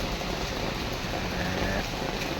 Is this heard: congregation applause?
no